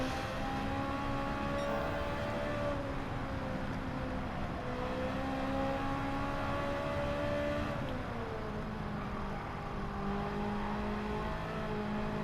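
A Ferrari F430 race car tuned for the WTC 600 Tokyo event in a Gran Turismo-style racing game drones steadily through a corner, its engine note sliding down then climbing, continuous and loud with no talk.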